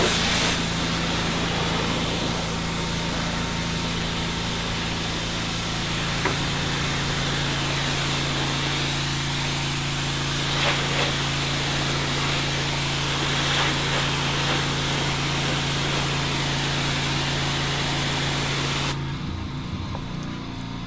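Pressure washer with a white tip nozzle rinsing a stripped wood deck, a loud continuous hissing spray over a steady engine drone, cutting off abruptly near the end.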